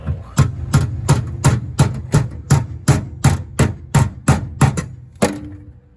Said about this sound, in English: get my little tiny body hammer out here. It's called a dead blow.